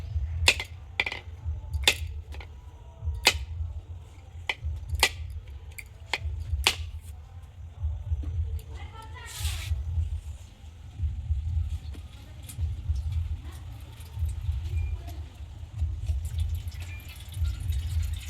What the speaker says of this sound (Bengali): জলটা ফেলি আগে একটু ফাটিয়ে নেই